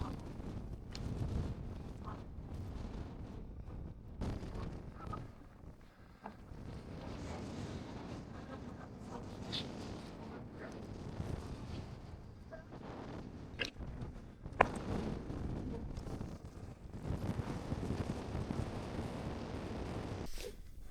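Wind gusts buffet the microphone on the exposed top of Loughrigg Fell in the Lake District, a low, rough roar that rises and falls for the whole stretch, with occasional rustling and clothing noise close by.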